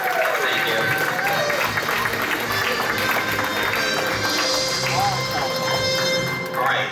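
An audience at a convention game show in Maine applauds a losing team, a dense continuous patter of clapping with voices mixed in throughout.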